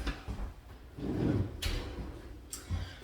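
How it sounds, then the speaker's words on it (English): An oven door swings shut in a home kitchen while a Thanksgiving turkey is being prepared, giving a couple of short, close clunks against low room noise. "Let me shut that oven."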